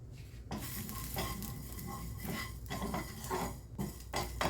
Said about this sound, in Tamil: முதலில் ஒரு தேக்கரண்டி வெந்தயத்தை சேர்த்து மிதமான தீயில் மணம் வரும் வரை லேசாக வறுத்து கொள்கிறேன்.